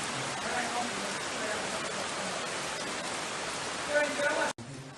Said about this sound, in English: Rain, rain, rain. It's not going away.